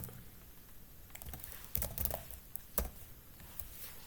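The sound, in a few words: typing HTML code on a computer keyboard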